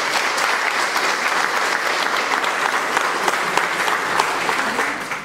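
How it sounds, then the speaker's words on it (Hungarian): A crowd at an Elderly Day gathering in Lánycsók gives a big round of applause greeting an elderly resident, dense, even clapping sustained throughout before trailing off at the end. "Köszöntsük őt egy nagy tapsot."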